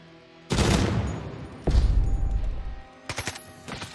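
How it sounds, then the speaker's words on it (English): Gunfire in the video game Jagged Alliance 3: two loud, sustained bursts of shots, then a rapid cluster of sharp cracks a little later, all heard up close and with no talk over them. "We're landing some shots, Woody, but there's a lot of work to be done"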